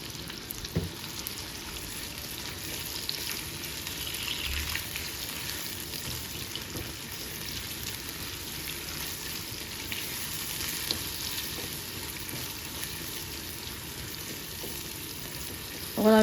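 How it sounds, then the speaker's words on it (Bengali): Onions frying in a pan with frozen garlic paste and salt, a steady, even sizzle that holds at a constant level throughout, close and unbroken, with no voices over it. "এখন আমি কিছু সময় পেঁয়াজটারে বিরান করিয়া নিমু।"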